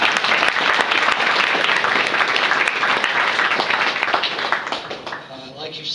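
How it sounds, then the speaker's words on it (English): A church youth group gives a warm round of applause, dense sustained clapping from a roomful of people that gradually thins out toward the end. "if you would give a warm round of applause to John"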